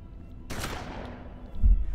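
A single sharp gunshot from the video game Hard West cracks out, followed by a decaying tail and a low thump near the end.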